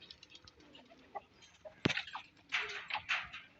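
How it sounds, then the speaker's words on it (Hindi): A rooster and two hens in a village cage give short clucks, coos and a sharp call, fairly close with gaps between bursts and no talk. "ये उसका बड़ा मुर्गा रहा और वो रही दो मुर्गियाँ"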